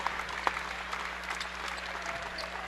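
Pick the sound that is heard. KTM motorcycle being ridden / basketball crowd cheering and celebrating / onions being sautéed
basketball crowd cheering and celebrating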